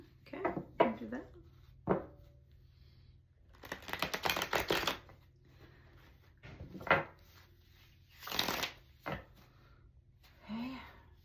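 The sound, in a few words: shuffling cards for a reading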